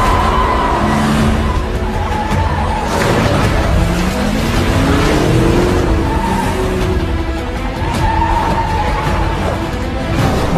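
In an action film car chase, a car roars at speed with engine noise throughout, while tires squeal and skid in long sliding tones rising and falling.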